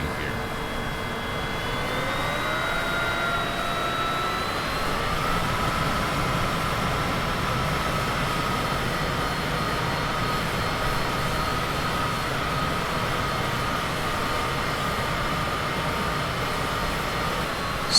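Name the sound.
Cessna Citation CJ4 jet landing in MSFS 2020 video game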